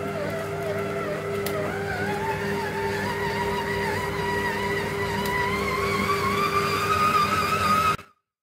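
Kitchen stand mixer kneading homemade bread dough at a raised speed, a steady loud motor whine with rising tonal hum that runs continuously and then cuts off abruptly near the end.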